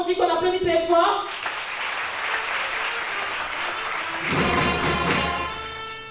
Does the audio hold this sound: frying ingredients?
no